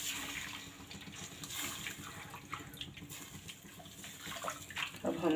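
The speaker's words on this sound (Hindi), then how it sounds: "पानी ऐड कर देंगे।" Water poured into a pan of semolina for soji ka halwa, giving a steady, fairly quiet pouring and sizzling wash that swells slightly toward the end, with no talking over it.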